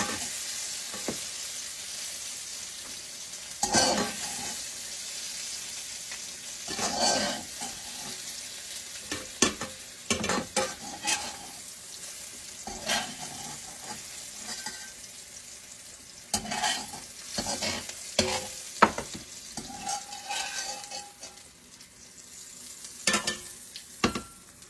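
Sautéed zucchini, mushroom and onion being scooped and stirred out of a hot pan, with soft scraping, clinks and faint lingering sizzle in irregular bursts, close by and with no talking.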